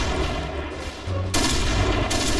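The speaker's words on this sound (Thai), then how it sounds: "แม่งได้ยินเสียงบาเลตเลย" Barrett sniper rifle fire in the Point Blank shooter game, with loud, dense blasts and booming gunfire filling the whole clip, including a sharp, heavy shot partway through, close and continuous.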